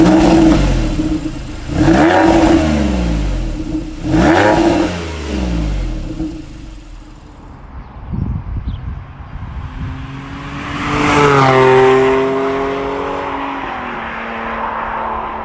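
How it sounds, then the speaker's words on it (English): A Porsche 911 997 Gen 2 Carrera 4S manual with the sports exhaust revs three times in quick succession, sharp rising bursts close by, then idles low before one more swelling rev that falls away. "the sports exhaust, which I think is almost a must-have because it sounds significantly better than the stock exhaust"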